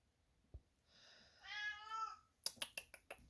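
A pet cat gives one long drawn-out meow, loud and close, after a soft tap, followed by a quick series of sharp clicks or taps.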